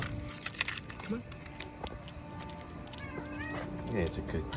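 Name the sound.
cat meowing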